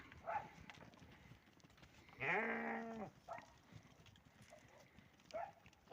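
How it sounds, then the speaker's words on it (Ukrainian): A sheep bleats once, a drawn-out wavering cry up close, amid faint rustling and shuffling, with softer animal noises around it. "Це мої вівці, вівці, вівці, вівці"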